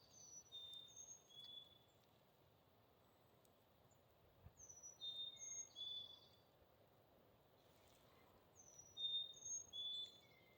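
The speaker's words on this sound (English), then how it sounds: "Now the birds are happy." Birds chirp and sing along a mountain hiking trail on a cool, breezy day, with short bright calls repeating in bursts over soft wind and faint insect buzz, fairly distant and alone without talk.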